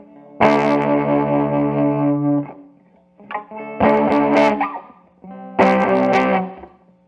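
Fuzzy, distorted electric guitar chords ring out three times, each held for a second or two before cutting off, with a muddy, saturated tone.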